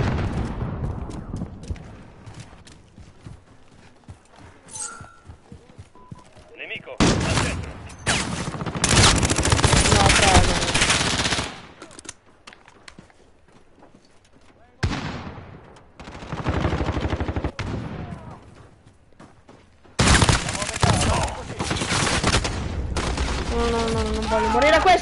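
Bursts of automatic gunfire and explosions from the Call of Duty Modern Warfare video game come in long dense volleys separated by quieter gaps, loud and continuous, while a player talks over the action.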